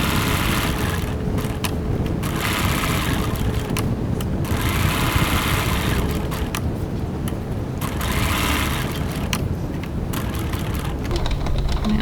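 Sewing machine topstitching around a vinyl ID window on a zip pouch, a continuous close whirring hum held at a steady level for the whole stretch.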